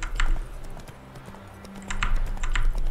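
A horse trotting in The Witcher 3: Wild Hunt, its hooves clip-clopping in a steady, even rhythm, fairly close and clear over low ambient rumble.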